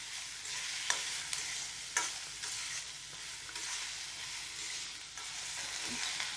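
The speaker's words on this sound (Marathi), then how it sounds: "या भाजीसाठी कांदा छान भाजून घेत आहे, तरच या भाजीला छान चव येईल।" Chopped onion sizzles steadily in oil in an iron kadai for a dry chana dal vegetable dish, with a few sharp clicks and scrapes of stirring over the constant close frying hiss.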